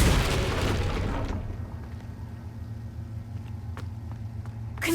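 Incendio fire spell erupting in Hogwarts Legacy: a loud roaring burst of flame that drops off after about a second, leaving a low hum and a few faint crackles before a fresh swell at the end.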